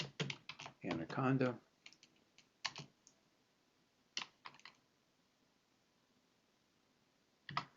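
Command-line typing on a computer keyboard: bursts of quick key clicks, with a dense flurry at the start and scattered single taps after, near and fairly quiet, while a voice briefly speaks over them.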